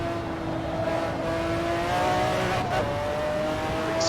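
McLaren F1 GTR race car in Assetto Corsa, engine droning steadily at high revs as it slides out of a corner, with a brief shift dip near the end; loud and close, no talk.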